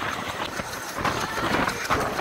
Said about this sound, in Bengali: এই যে লাইনতে ট্রেন চলছে এটা মোংলার দিকে চলে গেল